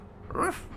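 A dog in the video game Paradigm whimpers once, a short rising whine lasting under half a second, close and alone without talk.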